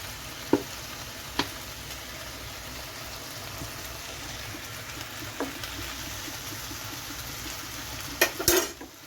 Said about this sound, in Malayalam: ഇളക്കാം ഒന്നുകൂടി.